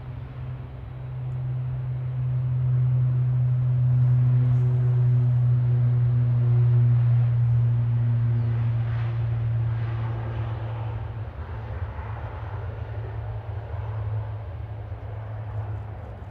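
A Loganair plane at Manchester Airport gives a loud, steady low engine drone that swells and holds for several seconds, then slowly eases off.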